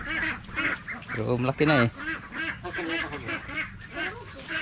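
A duck honks and quacks in a few loud, nasal bursts mixed with a person talking nearby, the calls overlapping the voice in short runs.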